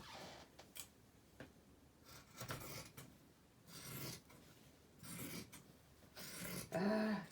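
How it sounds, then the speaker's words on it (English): Scissors cut into a new corduroy shirt to upcycle it into a jacket, sounding as a series of soft, close rasping snips in short bursts, with no talk. "Doesn't it feel so good to just cut right into a brand new piece of clothing, like a brand new shirt?"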